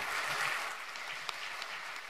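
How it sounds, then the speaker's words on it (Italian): Audience at a political rally in Milan applauds, a moderately distant wash of clapping that stays even for about two seconds, with one sharper clap standing out. "il primo applauso è per voi"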